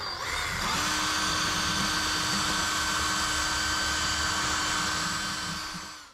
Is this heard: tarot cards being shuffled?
no